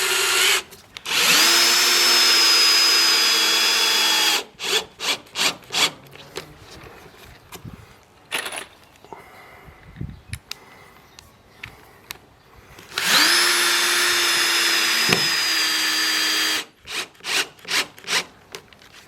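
Power drill boring pre-drilled holes into wood for fixing deck boards: two long, loud sustained whirring runs, each followed by short bursts of drilling and quieter handling between.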